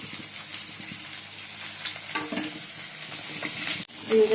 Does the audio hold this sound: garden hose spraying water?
no